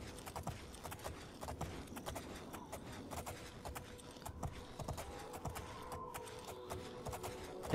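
Horse hooves clip-clop at a steady trot in The Elder Scrolls IV: Oblivion, a dense run of hoof strikes on a road with mechanical rattling under them and no talking.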